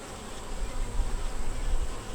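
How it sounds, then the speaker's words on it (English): Honey bees buzz steadily at an open hive during an inspection, a dense continuous drone close by with slight swells in loudness and no talking. "I just put my finger on a bee and she let me know."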